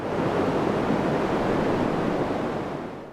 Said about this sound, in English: I love red noise.